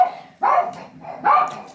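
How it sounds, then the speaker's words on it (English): A dog barks at someone arriving at the front door, giving two loud, close barks about a second apart in an indoor room. "someone's at the door. That's why they're barking."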